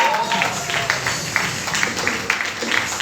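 A church congregation at a night vigil service applauds and cheers together, a dense steady wash of clapping with brighter sharp bursts and some voices rising through it, fairly loud throughout.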